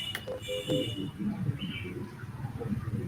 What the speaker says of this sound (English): I hear birds in the background.